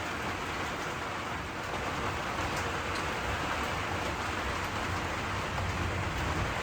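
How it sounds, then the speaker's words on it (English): Steady rain falls outside a trailer, a dense, continuous hiss of drops pattering on surfaces, loud and even throughout with no voices. "Excuse the rain, guys"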